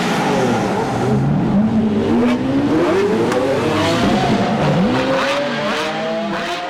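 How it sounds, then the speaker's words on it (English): A 2018 Chrysler 300S V8 rear-drive sedan slides around in snow, its engine revving loudly and rising and falling in pitch with continuous close roar and no talk. "Let's see if we can slide it around in the snow."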